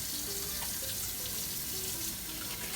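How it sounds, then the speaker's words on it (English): Water runs steadily from a kitchen tap during handwashing, a close, continuous hiss and splash with no break across the whole stretch. "I'm going to wash my hands again, just because I know."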